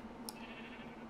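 Sheep in Minecraft giving a steady, drawn-out bleat, faint and close, with a short click near the start and no talk.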